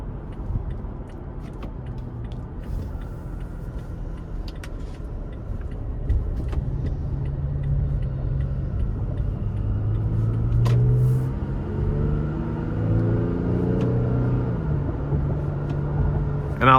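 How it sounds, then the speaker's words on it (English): A 2023 Toyota Tacoma TRD Sport with the 3.5 V6 accelerates onto an interstate in manual shift mode. Low engine rumble rises steadily over road noise, and the revs climb in stepped gear pulls toward the end. "Now we're gonna try and give it some throttle getting on the interstate here."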